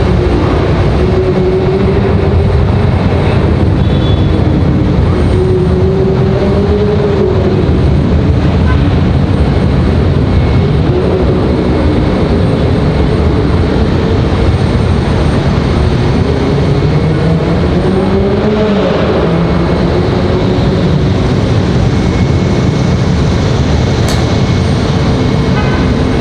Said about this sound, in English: We're going to pick up our departure here. I believe this is our CRJ.